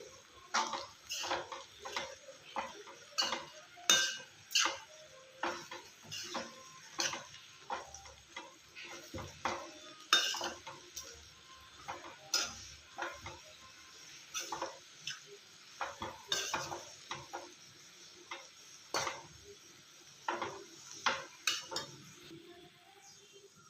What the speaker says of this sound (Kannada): ಚೆನ್ನಾಗಿ ಮಿಕ್ಸ್ ಮಾಡ್ಕೊಳ್ಳೋಣ. ಮತ್ತು ಅವಲಕ್ಕಿ ಹಾಕ್ಕೊಳ್ಳೋಣ.